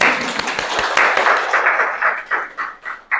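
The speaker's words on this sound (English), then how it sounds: "So I think a round of applause for Owen for that patch." Audience applause at a software bug-fixing talk, a dense burst of many hands clapping that gradually thins into scattered, pulsing claps and fades out.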